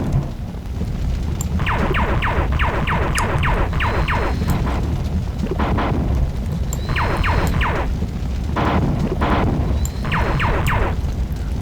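Missile explosions in the shooter game Marathon 2: Durandal come as repeated bursts of rapid, crackling blasts in several clusters. They sit over a constant loud rumbling background.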